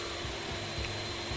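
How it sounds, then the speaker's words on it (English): Sawmill saw in the Roblox game Lumber Tycoon 2, a steady droning whir with a sustained hum, brief and continuous with no voices. "loud sawmills hurt my ears"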